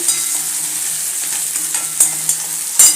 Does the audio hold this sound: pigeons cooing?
no